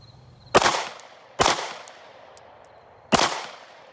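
Three sharp Glock 45 pistol shots at a shooting range, spaced irregularly over a few seconds, each a loud close crack followed by a short decaying echo, with no talking.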